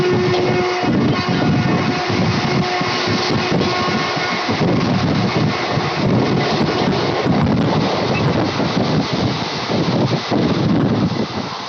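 The Shalimar Puri Jagannath Express from Howrah to Puri runs between Santragachi Junction and Mecheda, a loud, unbroken roar of wheels and rushing wind buffeting the microphone throughout.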